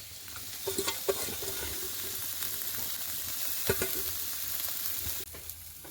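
Onions sizzle and fry steadily in a pan during a home cooking session, with occasional stirring clicks and scrapes over a constant hiss.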